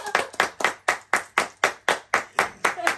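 A person claps their hands in a quick, steady rhythm, about a dozen sharp close claps in a row.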